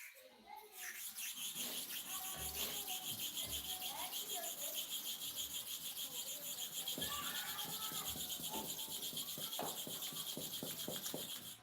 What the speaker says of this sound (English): Then we are sharpening for the second side now.